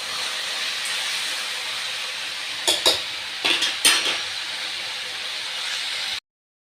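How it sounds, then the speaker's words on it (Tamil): Bitter gourd sautés in a pan with a steady sizzling hiss, and a short burst of metal spatula scrapes and clinks comes near the middle before the sound cuts off abruptly. "இதை சேர்த்து நல்லாவே வதக்கிக்கிறலாம்"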